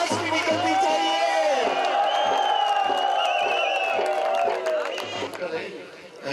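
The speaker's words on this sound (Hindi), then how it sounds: "बहुत सारी तालियां जी राठौर के लिए।" A crowd at a birthday celebration in Gilgit applauds and cheers for Rathore, with sustained clapping, whoops and shouts that swell loudly and then ease off toward the end.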